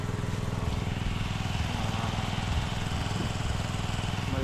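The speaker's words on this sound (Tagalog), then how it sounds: "Kaya maandar na po ang makina." Steady, loud drone of an engine driving a water pump for irrigation, running continuously nearby with no breaks.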